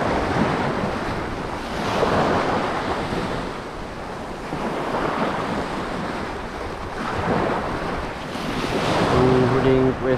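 Sea waves and strong current surge in broad, rolling swells on an open-water fishing trip, loud and close with heavy wind buffeting throughout and a faint engine-like hum near the end.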